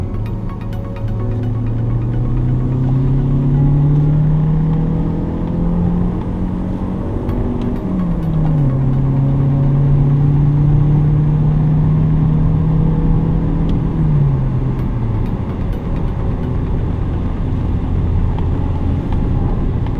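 A 2019 Mazda CX-30 engine driven hard at high RPM, a loud sustained drone climbing in pitch, dropping after a shift, holding steady, then easing off, with no talking.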